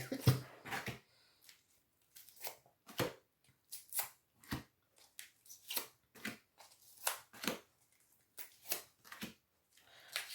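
Tarot cards being handled and shuffled, riffled in repeated soft rustling bursts at a steady pace, close and fairly quiet, with no talking.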